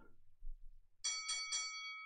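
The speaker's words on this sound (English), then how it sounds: "There's the bell and there's the first round." A round-timer bell from a fitness web app rings three times in quick succession, bright and clear, after a moment of low background rumble.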